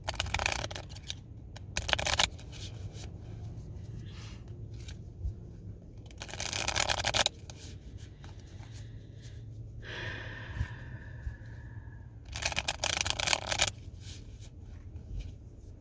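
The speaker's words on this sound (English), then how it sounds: "let me shuffle a bit here" Tarot cards being shuffled in several quick riffling bursts, crisp and close, with quiet pauses and a soft breath between them.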